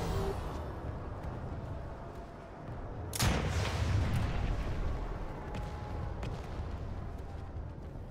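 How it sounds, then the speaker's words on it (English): Heavy anti-aircraft gunfire in a military video game battle, a sharp loud burst near the three-second mark followed by sustained rumbling fire and scattered distant shots over continuous battle noise. "they had a lot of anti-aircraft fire going on"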